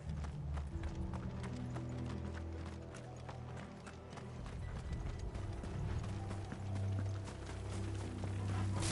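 Rapid rhythmic hoofbeats clatter continuously over a rumbling mechanical backdrop, like several horses galloping, with sound effects from the video game Final Fantasy XVI mixed in.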